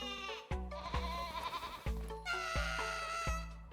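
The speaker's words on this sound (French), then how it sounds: "C'est le bruit de la chèvre ou du mouton." Repeated bleats from a goat or sheep in Cult of the Lamb, several calls in a row over steady game music, close and clear.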